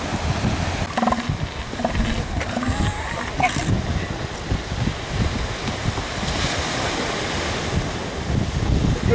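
Elephant seals squabble on a beach, giving loud rough bellows and splashing over constant surf roar, with voices talking over them.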